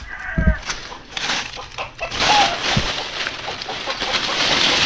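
Gamefowl chickens clucking close by, short irregular calls over a steady outdoor background, with a brief low thump near the start.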